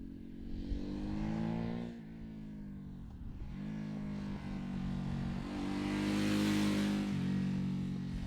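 A 2017 Ducati SuperSport motorcycle with its 937cc Testastretta twin engine revs and accelerates up close, its steady harmonic drone rising and falling through several gear pulls over about eight seconds, with no talking.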